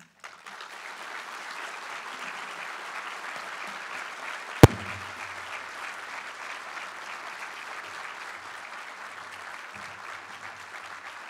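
A county government audience applauds Commissioner Kuney at a State of the County event, a steady moderate wash of clapping from a room of people, with one sharp thump partway through.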